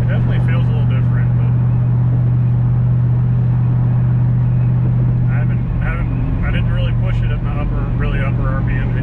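A car engine with a modified intake drones steadily at high RPM from inside the moving vehicle, a loud continuous rumble with a shift in tone near the end.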